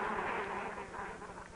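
Honeybees buzz densely around their hive, a continuous close swarm hum with no voices.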